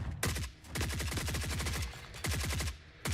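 Gunhead weapon firing in the video game The Forever Winter: rapid automatic gunfire in three sustained bursts separated by brief pauses, loud and close with no talking.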